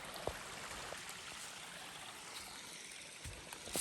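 A trail-side stream with small cascading waterfalls rushes in a constant, soft broadband wash with occasional splashes, steady throughout and heard alone.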